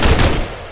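A burst of rapid gunfire from a Minecraft Flans mod gun rings out loud and close, sounding as a dense volley that fades out in under a second.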